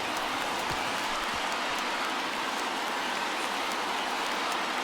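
A sold-out crowd of about 40,000 at a Minnesota Twins home opener against the Seattle Mariners, a dense, steady roar of cheering and clapping from a distant stadium filling the whole stretch.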